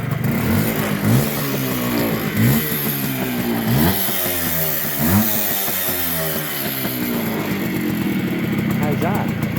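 The small engine of a restored Yamaha FS1E motorcycle revs repeatedly close up, each blip rising and falling in pitch over a buzzing two-stroke idle, with speech faintly mixed in.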